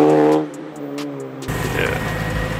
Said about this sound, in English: That thing sounds really good. It is a super clean exhaust.